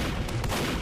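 Gunfire in a soldier video game: two quick sharp shots crack out close together amid dense, loud game noise.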